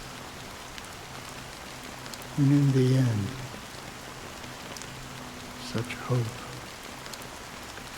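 Steady rain hisses in the Honkai: Star Rail game world of Penacony, a soft, continuous wash beneath a character speaking.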